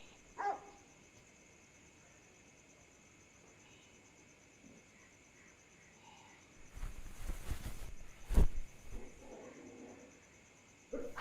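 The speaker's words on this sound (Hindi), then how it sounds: "है तुम्हारे यहाँ के कुत्ते भी ना, मतलब जाड़े में आराम नहीं कर सकते, काटने को दौड़ते रहते हैं हर समय" Dogs in a village bark during winter: a short bark early on, then a louder, busier cluster of barking a few seconds later, set against a faint, steady chirring of insects.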